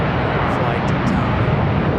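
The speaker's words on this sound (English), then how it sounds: "So the MD up next, the old Boeing 717." An old Boeing 717 jet airliner at Charlotte Douglas International Airport, a loud steady broadband engine roar filling the whole moment, with someone talking over it.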